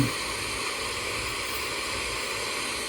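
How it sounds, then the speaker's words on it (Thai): The upper tier of Tad Yueang waterfall in southern Laos pours steadily in the rainy season, giving a constant, even hiss of falling water with no break. "จะเปิดเสียงให้ได้ยินเสียงน้ำตกนะคะ เป็นน้ำตกชั้นบน"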